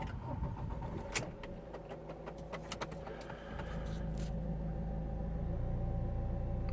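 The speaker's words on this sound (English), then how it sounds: "Now the car is started." A 2005 Ford Focus C-MAX with the 2.0 TDCi diesel starts up. Clicks and a brief whirr come first, then the engine catches around the midpoint and settles into a steady low rumble at close range.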